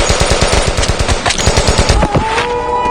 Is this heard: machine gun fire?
yes